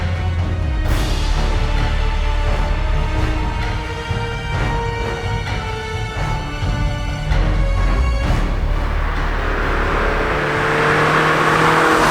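A 2019 Mazda3 Sport GT hatchback with a 6-speed manual accelerates and shifts gears, its engine drone rising and falling loud and close, with road and wind noise swelling toward the end; no talking.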